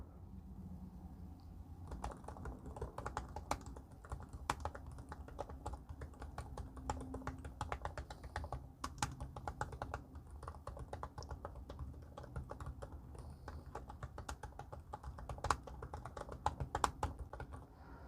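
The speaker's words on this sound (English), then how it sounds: "I'll give you a little bit of a sound test right now." Rapid typing on a Samsung Galaxy Book Pro 360 laptop keyboard, a dense run of soft key clicks and taps continuing steadily, fairly quiet and close, with no voices.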